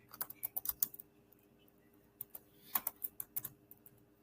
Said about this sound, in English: So let me go ahead and type that.